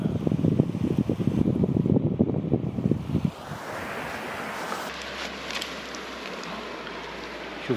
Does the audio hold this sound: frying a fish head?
no